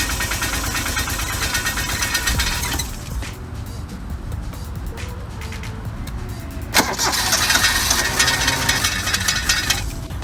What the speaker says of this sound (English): That rattling is your exhaust shield.